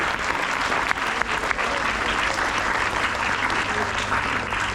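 Loud, dense applause from an audience at a Hindi poetry recital fills the whole moment, steady and sustained without a break.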